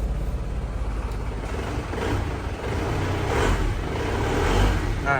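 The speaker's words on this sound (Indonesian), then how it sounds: "sambil kita hidupin mesinnya ya" A 2013 Isuzu Panther Grand Touring with about 80,000 km idles steadily after starting, giving a low, even engine rumble that holds for several seconds with no talk over it.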